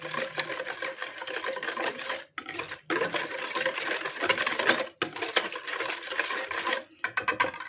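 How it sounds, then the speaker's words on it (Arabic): Milk, instant yeast and sugar are stirred together until the sugar dissolves, giving a continuous close whisking and scraping with a few brief breaks. "وهقلب المكونات دي كلها مع بعضها كده لحد السكر بتاعي ما يدوب"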